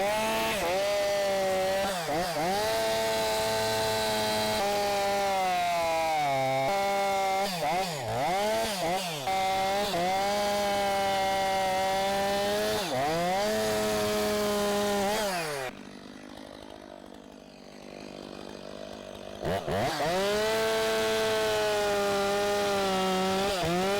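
A chainsaw freehand milling a log runs loud and steady close by, its engine pitch dipping and rising as the bar bites into the wood, briefly easing off before revving back into the cut.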